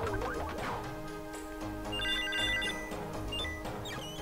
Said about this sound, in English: that sound when you pick up a ton of experience crystals still fills me with joy all these years later